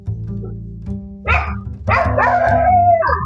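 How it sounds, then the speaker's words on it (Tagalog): A dog barks at a person in a village neighborhood, giving a couple of sharp, close barks followed by a drawn-out whining yelp over a steady low hum. "Yan, tinataholan niya ako."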